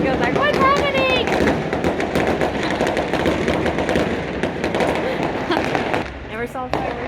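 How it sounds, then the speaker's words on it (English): Fireworks burst repeatedly in daytime just outside a balcony in Taiwan at Christmastime, a dense, loud crackling barrage of pops and bangs that runs throughout, with voices talking faintly underneath. "Fireworks in the daytime."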